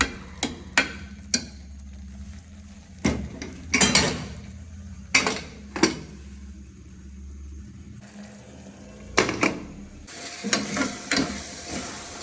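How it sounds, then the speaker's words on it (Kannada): Ginger garlic paste frying in a pan for tomato rice bath: a low sizzle broken by sharp spatula knocks and scrapes against the metal, in irregular bursts, no talking. "ಇದ್ರದ್ದು ಹಸಿ ವಾಸನೆ ಹೋಗೋವರೆಗೂ ನೀಟಾಗಿ ಫ್ರೈ ಮಾಡ್ಕೊಬೇಕು"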